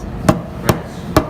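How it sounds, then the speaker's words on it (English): Three evenly spaced sharp taps of a hammer driving a part into place over a socket, crisp metallic knocks about half a second apart against a quiet background. "and then you can just tap it down"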